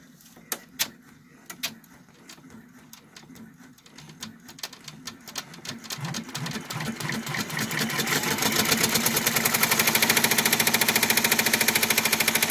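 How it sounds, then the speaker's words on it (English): An embroidery machine sews a tack-down stitch on vinyl for an appliqué on a hooded towel, starting with scattered needle taps and building into a steady, loud rapid stitching rhythm, with no talking. "Next, I place my vinyl and do the tack down stitch."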